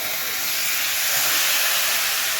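Loud, steady hiss of water hitting ground cumin and spices in a hot pan while cooking niramish aloo dum, a dense broadband sizzle that holds evenly without pause.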